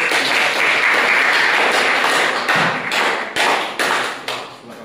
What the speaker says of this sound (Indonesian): aplaus buat narasumber 1